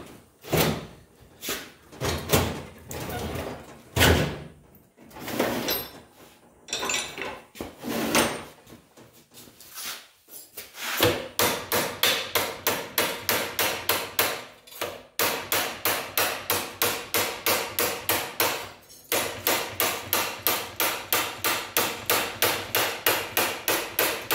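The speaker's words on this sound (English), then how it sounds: "I'll go ahead and hammer that up there now." Steady metallic hammer blows on sheet metal for a RZR lower door ring out, first in irregular bursts, then in a fast, even rhythm of sharp strikes, loud and close, with no talking.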